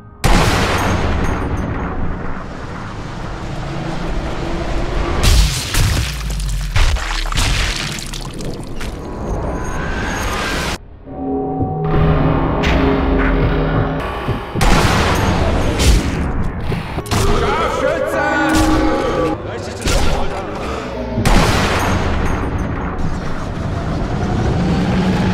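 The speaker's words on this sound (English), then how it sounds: "the two rifles that we're firing today is the Mauser 98" Real-life WWII Mauser 98 sniper rifle fired outdoors, several loud sharp cracks with booming echoes spread across the stretch, between quieter pauses and some background noise.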